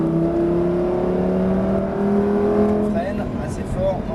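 A Lamborghini on a circuit during a driving course, its engine pulling hard in a loud, rising drone heard from the cabin, then shifting pitch near the end as an instructor's voice comes in over it.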